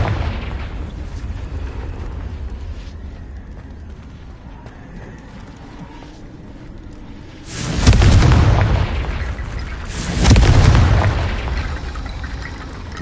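Two heavy booming blasts from the Confringo fire spell in the video game Hogwarts Legacy, loud and close, spaced a couple of seconds apart over a low rumbling ambient background.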